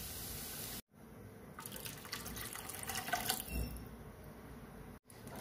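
Water poured into a pan while cooking semiya upma, a steady splashing, gurgling stream running for several seconds at close range, with no talking over it.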